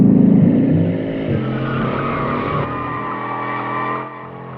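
A Bugatti Chiron driven hard in handling mode roars loudly and close, its engine note rising with faint tire squeal before easing off near the end.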